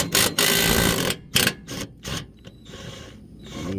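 Ratcheting clicks and metallic rattles come from the blade nut being loosened on a Troy-Bilt Bronco riding mower, with a dense burst of ratchet turns at first and then sparser clicks and scrapes, close and fairly loud.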